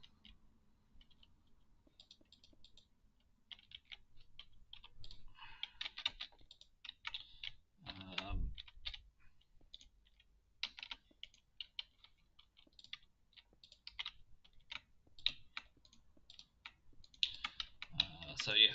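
Someone types and clicks on a computer keyboard while playing a Minecraft redstone game, with irregular bursts of keystrokes, near and fairly quiet, plus an occasional louder knock.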